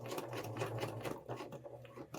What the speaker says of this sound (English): I generally sew to the sides forward, then put on my back stitch